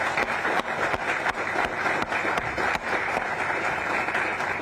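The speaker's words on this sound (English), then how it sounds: "can we just give them a round of applause for all they did here?" Steady crowd applause at an outdoor Coast Guard groundbreaking ceremony in Boston, honoring the color guard; dense clapping sustained throughout with a few sharper claps standing out.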